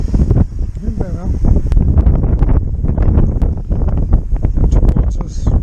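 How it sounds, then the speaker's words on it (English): Strong outdoor wind buffets the microphone throughout a DJI Mini 2 drone flight on a snowy day, a loud continuous roar with people talking over it. "It's too windy."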